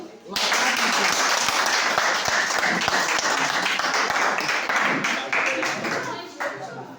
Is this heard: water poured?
no